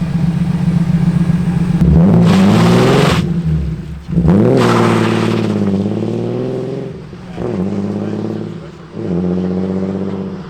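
A Ford Fiesta RWD Cosworth engine revs hard and loud up close, climbing and dropping several times in bursts with brief pauses between.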